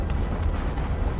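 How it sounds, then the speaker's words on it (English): A TV drama explosion from The Umbrella Academy, a dense low rumbling roar that fills the whole moment at a steady, heavy level. "Oh, this is the explosion in present day."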